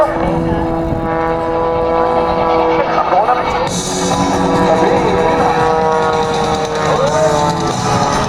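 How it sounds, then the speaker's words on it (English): Propeller engine of a Red Eagles aerobatic airplane tumbling at the Abbotsford airshow, a steady loud drone with wavering pitch as the plane rolls, heard over crowd and commentary talk. "He's just rolling in one place and tumbling the airplane around"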